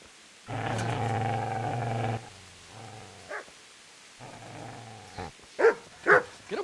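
A dog in the medieval game Kingdom Come: Deliverance gives a long, deep, close growl, then shorter rumbling growls, and ends with a few sharp, quick snarls or barks.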